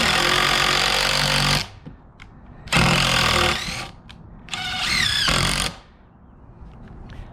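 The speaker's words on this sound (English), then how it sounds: "I think it needs to have a few screws, so I'm going to" A power drill drives screws into wood at an angle while a Velux skylight is being installed, with three loud, close bursts of whirring motor separated by short pauses and no talk.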